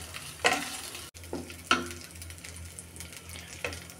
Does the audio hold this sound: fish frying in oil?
yes